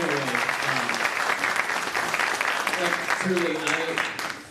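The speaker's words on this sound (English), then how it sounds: "huge round of applause to all 9 of our team" Audience applause for nine teams at an MBA consulting pitch competition final, dense sustained clapping close by, while a speaker's voice talks over it and the clapping tapers off at the end.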